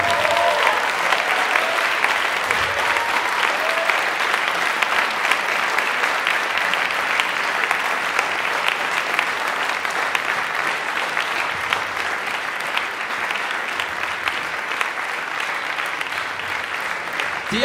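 Sustained audience applause at a band's 25th jubilee concert, a dense and loud wash of clapping from a large crowd that holds steady from start to finish with no pause.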